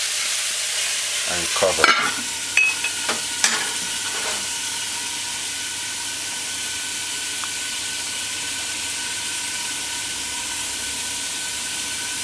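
Seasoning sizzles in a pan over high heat for hot coconut fish, a loud steady hiss with a few sharp clatters early on, then continuous frying; a voice speaks briefly.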